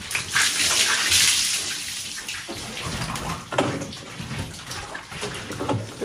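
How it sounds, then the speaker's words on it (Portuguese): Buckets of water are poured over pigs during a bath, a loud, close, continuous splashing and gushing that swells and eases in uneven waves. "E a gente dá banho no balde, gente."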